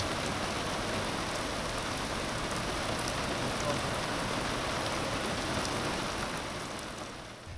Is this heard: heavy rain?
yes